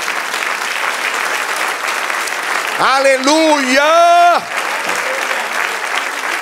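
Church congregation clapping in praise, a steady wash of hand claps filling the room while a voice breaks through midway with a loud sung shout before the clapping carries on.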